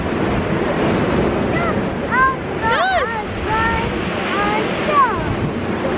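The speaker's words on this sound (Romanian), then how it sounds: "Sunt valuri mari!" Big waves rolling onto a rocky beach in Spain with wind buffeting the microphone, a constant roar of surf while voices speak and call out over it.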